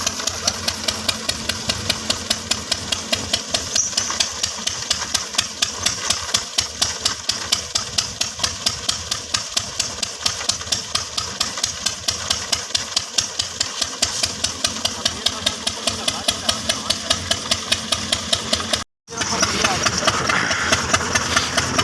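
A tractor engine idles steadily and loudly close by throughout, with a brief dropout near the end, recorded during a groundnut harvesting job.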